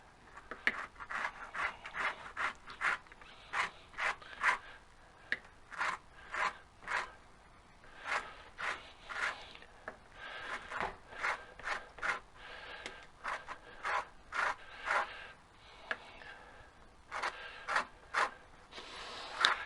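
An orange being zested on a grater, quick rhythmic rasping strokes in short bursts with brief pauses, close and fairly quiet, with no talking.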